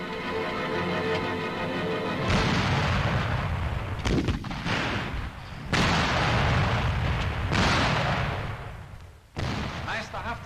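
Heavy infantry guns and artillery firing in a German military training film of mountain troops attacking a village, with several loud booming blasts and rumbling bursts in succession, a narrator speaking over them.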